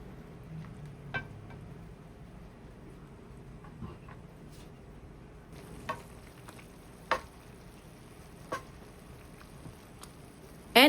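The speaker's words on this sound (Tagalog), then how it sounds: "pwede natin lagay dito ang ating napritong pork chops and then simmer lang natin yan for at least a minute" Fried pork chops simmer in bistek sauce in a pan with a soft, continuous low sizzle, joined by a few faint utensil taps and a brief clatter at the end.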